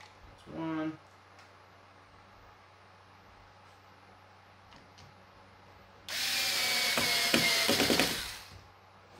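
Power driver running screws into an LG UP8000 television stand, with a short whir early and a longer loud burst of driving near the end, close by, with quiet between the bursts.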